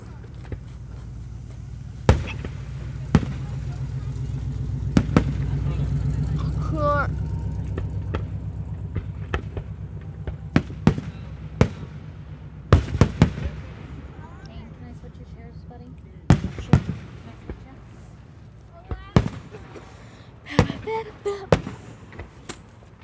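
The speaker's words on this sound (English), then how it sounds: "these pop rocket gigantic things are freaking loud as crap, and they went by my ear when they exploded" Loud July 4th fireworks, pop rockets bursting in sharp single bangs at irregular intervals, a few close and startling, some in quick pairs, over a steady low rumble of outdoor background noise.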